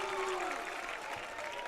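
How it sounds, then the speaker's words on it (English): A crowd in the stands at a high school football game between FRHS and Baylor sends up a steady roar of cheering and applause, sustained and fairly distant, with one sustained voice-like tone riding over it. "as you heard that crowd over there shouting Moose"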